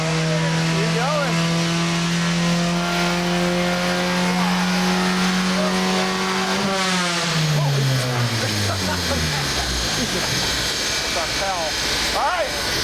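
A Honda Civic hatchback built into a rally car accelerates hard past 100 mph, its loud engine note climbing through the gears with a shift and rising revs, while voices talk over it.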